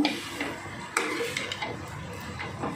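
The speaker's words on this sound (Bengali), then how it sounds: "দিয়ে কিন্তু আমি একটু নাড়াচাড়া করে নেব" Meat stirred in a dry pan with no oil, a few soft scrapes and light clinks of a spatula over a faint, close background, with no voice heard.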